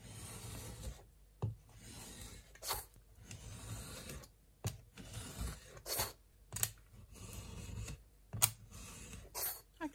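Scissors trim packaging card for junk journal ephemera, giving a series of short, close, scratchy cutting strokes separated by quiet pauses.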